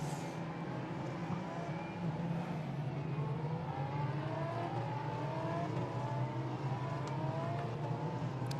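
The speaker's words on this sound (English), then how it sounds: "the Lamborghini VIP laps take place, where road-going cars take to the circuit" Lamborghini road cars lapping the Barcelona race circuit, their engines a steady, loud droning whine with several overlapping cars rising and falling in pitch as they pass, continuous throughout with no talk.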